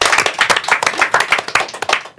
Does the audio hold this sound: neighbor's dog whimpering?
no